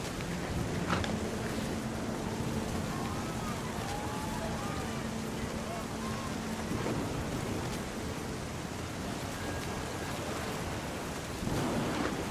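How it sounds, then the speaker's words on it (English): Deep rolling thunder rumbles through steady rainfall in the video game What Remains of Edith Finch, a dense, continuous storm wash with the thunder heavy and close. "The thunder sounded much too close and full of angry power"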